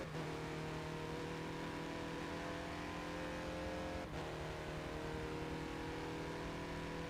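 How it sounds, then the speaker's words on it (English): A Mazda race car in the Forza video game holds a low, steady engine drone throughout, with a brief dip in tone partway before settling back into the same constant hum. "The Mazda does sound very odd, though. It's a very low engine noise, which is really, really surprising."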